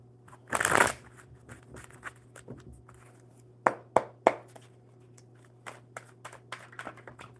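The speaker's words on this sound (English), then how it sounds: "One more good shuffle." A few bursts of playing card shuffling, one longer riffle near the start, then several sharp snaps and soft taps in a quiet room.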